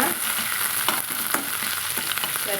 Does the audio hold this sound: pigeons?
no